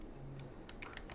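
Someone types an email message on a computer keyboard. A quick, faint burst of several clicking keystrokes comes after a moment of quiet room tone.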